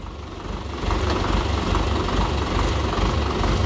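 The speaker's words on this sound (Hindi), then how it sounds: "बैक होके जो ट्रेंच डिगर में नीचे नीचे करके डाला जा रहा है, आप इसको चलता हुआ देखेंगे" A Sonalika 60 tractor engine drives a trench digger with a steady, heavy, low diesel chug. The close, rhythmic knocking grows a little louder after the first second and stays constant.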